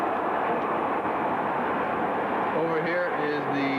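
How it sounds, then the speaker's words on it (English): A train rolls past along the near bank of the Rhine below a hilltop castle, a continuous loud rumbling rush, joined near the end by a few tonal horn-like notes. "A train whizzing by on this side."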